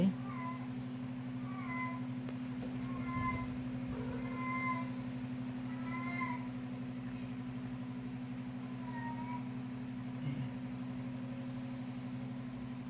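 A cat meows repeatedly, a string of short, clear calls spaced a second or two apart, then one more after a pause, over a steady low mechanical hum.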